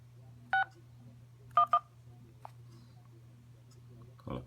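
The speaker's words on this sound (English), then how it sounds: "Gonna make a phone call." Keypad dialing tones on a Nexus 5 phone, three short distinct beeps in a quiet room, two close together, followed by faint clicks over a steady low hum.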